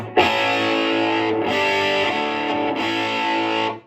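A VHT Special 6 Ultra amplifier with a distortion mod rings out in three sustained, buzzing, heavily distorted electric guitar chords, loud and thick, with no voices.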